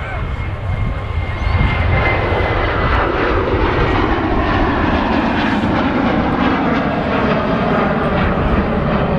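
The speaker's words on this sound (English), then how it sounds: "so we have an aircraft on approach" An airplane on approach at Manchester Airport roars steadily and loudly through the whole stretch, a broad continuous engine rumble with no other sounds over it.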